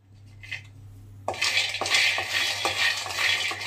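Peanuts being lightly dry-roasted in a pan, heard as a steady close sizzle and rattle with repeated stirring scrapes against the metal after a brief quiet start.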